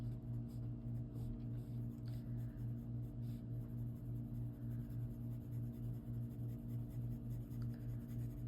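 Soft, steady scratching of a 2B graphite pencil shading cloud areas on paper, quiet and continuous with no talk, under a low constant hum.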